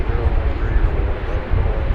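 An American Airlines Boeing 777-200 arriving from Paris at Dallas/Fort Worth airport, heard as a loud, continuous low jet roar close by, with a voice talking over it.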